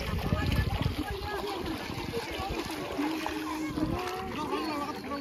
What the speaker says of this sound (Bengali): জলটা একটু ছিটিয়ে নিলাম